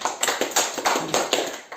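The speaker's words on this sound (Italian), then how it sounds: "5 punti a Francesco, un applauso a Francesca." A studio audience on the Italian Taskmaster game show breaks into lively applause, a loud, dense wash of clapping from many hands with small surges in intensity.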